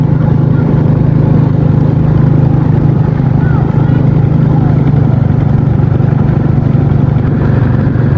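A farm tractor loaded full of people in a groom's procession drives along with a loud, steady low engine drone and constant rumble.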